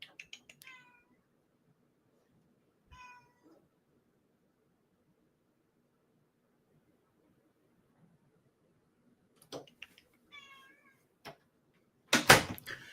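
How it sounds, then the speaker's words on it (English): A cat meows several times in short, rising calls with pauses between, fairly close, over a quiet background with a faint tick and a brief noisy burst at the end. "My cat is meowing."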